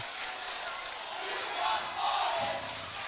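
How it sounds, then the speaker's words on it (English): A crowd at a varsity boys high school basketball game roars and cheers in a gym after a blocked shot, a dense swelling noise that peaks in the middle, with an announcer speaking over it. "the crowd saying we may be down 13, but they're enjoying the block shot by JJ"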